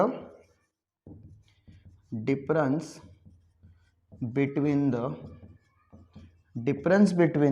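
Marker or chalk strokes on a board during a class 6 maths word-problem lesson, heard as faint, brief scratches in the pauses while a teacher keeps talking.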